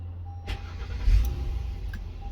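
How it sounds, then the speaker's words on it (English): A vehicle being switched on during a rear spoiler LED kit install, a brief low engine start rumble rising near the middle over a steady idle hum, close by. "So we're gonna go ahead and turn on the vehicle."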